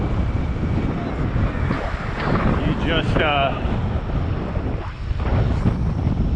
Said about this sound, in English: So it's a windy, chilly day today, which is not ideal